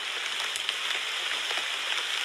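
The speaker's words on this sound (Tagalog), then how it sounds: "ulan po kasi mga tol" Rain falls steadily in the mountains, an even hiss of drops that stays close and dense throughout, with no voices.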